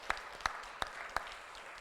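Four sharp, evenly spaced claps ring out during a Korean church Sunday service, crisp and close, followed by a quiet room.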